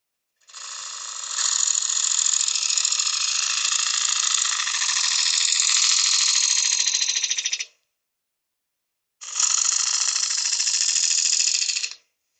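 A woodturning lathe turns a workpiece while a cabinet scraper takes fine passes, giving a loud, steady high whine and rasp that holds for about seven seconds, stops briefly, then returns for a shorter second pass.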